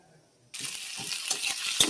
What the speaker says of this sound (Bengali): কড়াইয়ে তেল দিয়ে কাঁচা লঙ্কা আর কাঁচা পেঁয়াজ দিয়ে দিয়েছি